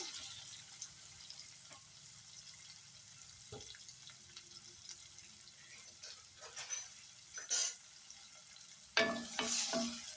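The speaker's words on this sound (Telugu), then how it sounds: "అవి వేగిన తర్వాత ఉల్లిపాయ ముక్కలు వేసుకున్నామండి" Onion pieces in a pan give off a steady, faint sizzle of frying, with occasional stirring scrapes and a few louder clatters near the end.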